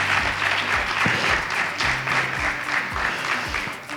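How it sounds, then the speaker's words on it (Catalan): A crowd applauds at a Falles festival gathering in Massamagrell, a loud, dense burst of clapping with a few sharper close claps and faint voices underneath, easing slightly at the end. "Un aplaudiment, no?"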